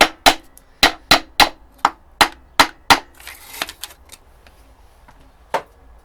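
Sharp taps drive a ringed piston into the bore of a Ford Transit engine, about a dozen distinct knocks in an uneven rhythm, loud and close, with a short scuffing pause before a final tap.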